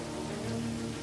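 Heavy rain pelting down in Grand Prairie, Alberta, during a flooding downpour, a steady dense hiss of drops on surfaces with no voices, continuous and fairly close throughout the short stretch.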